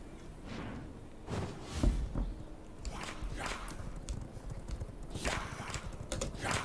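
Horse hooves clip-clop in the vampire survival game V Rising: irregular, fairly close thuds sound over a steady background of game ambience, with faint voices underneath.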